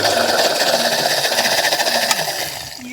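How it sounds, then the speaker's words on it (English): A sump pump in a crawlspace under a house runs steadily after its float is lifted, giving a continuous close mechanical hum and whir with a slight rhythmic wobble and no talk. "sump pump seems to be working exactly the way it's supposed to"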